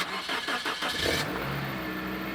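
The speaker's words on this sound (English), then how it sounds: "And you can start up the car." Car engine cranks in a quick run of starter pulses after ice has been scraped off in winter, then catches and settles into a steady idle, close and alone.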